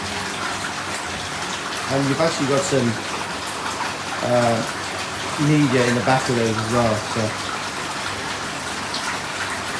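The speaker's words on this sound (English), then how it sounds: "And pump out there just to give some movement to the water." Pumps keep water moving in a pond in Japan, a steady rushing gush throughout under someone talking.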